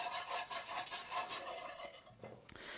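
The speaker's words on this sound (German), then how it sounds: "Immer wieder rühren." A spoon scrapes and stirs through the sauce for Königsberger Klopse in a cast-iron Dutch oven, with soft rasping strokes near and quiet, then a brief metallic knock near the end, no talking.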